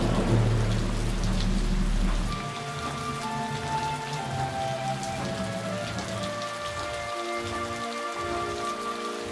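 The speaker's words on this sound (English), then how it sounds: "The big storm had finally arrived on the island of Sodor." Heavy rain storm lashing the island of Sodor: a dense, steady downpour drumming on surfaces throughout, loud and close, with faint sustained musical tones beneath.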